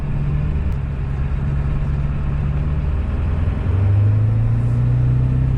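A 2003 Ford E350 Quigley 4x4 van with a 7.3 liter V8 Powerstroke diesel and straight exhaust cruises at about 25 mph, giving a loud, steady low engine drone that shifts pitch slightly partway through, with no talking.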